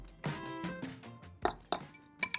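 A utensil mixes tuna, chopped veggies and squeezed lemon in a bowl, giving soft scraping followed by a few sharp, close clinks against the bowl.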